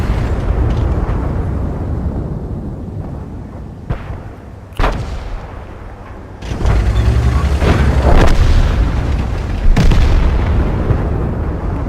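Tank cannon shots and shell explosions in the World of Tanks video game, an A-44 firing at a KV-1; several loud booming blasts at irregular intervals over a continuous rumbling engine and battle background.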